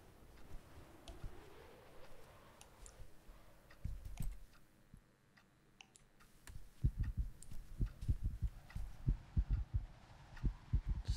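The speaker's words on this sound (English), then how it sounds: "It's no good when you start hearing the heartbeat thing going off." Heartbeat sound effect in the horror video game From The Darkness: soft low thumps, faint at first, then louder, steadier pulses in the second half, with no talking.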